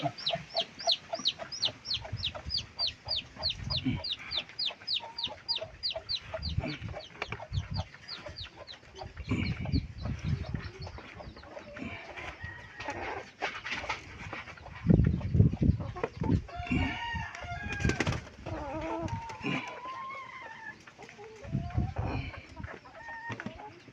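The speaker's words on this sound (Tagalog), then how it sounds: "Ito naman yung mga alaga ng pamangkin ko, broiler guys oh." Broiler chickens cluck and chatter close by in a farmyard, opening with a rapid run of repeated calls, then irregular overlapping clucks and squawks, with some soft scuffling in between.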